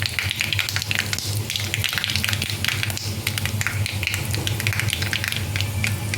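Mustard seeds fry in hot oil in a pan for potato bhaji. A dense, continuous crackle of spitting and popping runs throughout at an even level, close and loud, with no voices.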